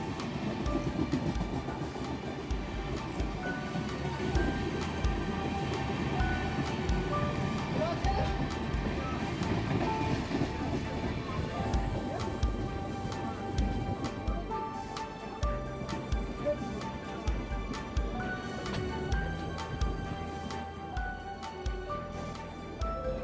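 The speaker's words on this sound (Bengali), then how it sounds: "আপের one eight zero three zero Shalimar এল Kurla express Andul station skip করে বেরিয়ে যাচ্ছে টুয়ার্ডস সাঁকড়াই" The 18030 Shalimar–LTT Kurla Express runs through Andul station without stopping, heading toward Sankrail. A loud, close, continuous rumble and clatter of wagons fills the whole stretch, with a steady hiss beneath it.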